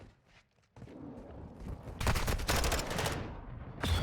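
Rapid automatic gunfire in a competitive Call of Duty collegiate match, with dense bursts of shots building to a loud, sustained exchange and a final burst at the end.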